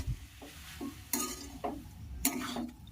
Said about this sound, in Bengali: খুব ভালো করে নাড়াচাড়া করে আমি মিশিয়ে নেব